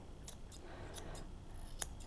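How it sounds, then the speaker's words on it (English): Small grooming scissors snipping fur around a dog's paw pads using the tips, giving a quick series of faint, close, crisp metallic snips spaced irregularly. "I'm still using the tips of my scissors."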